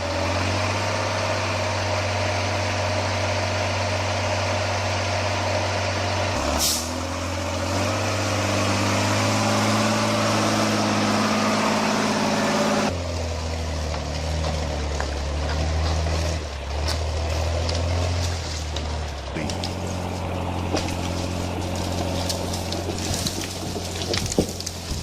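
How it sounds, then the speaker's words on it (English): A Mercedes Unimog off-road truck towing wood over rough ground runs with a loud, steady diesel engine drone that shifts pitch and load several times, with no talking. "the Mercedes Unimog is the strongest off-road vehicle towing wood that I have ever"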